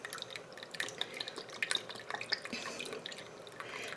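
Soy sauce poured into an Instant Pot, a quiet run of close liquid drips and splashes with small clinks, heard alone.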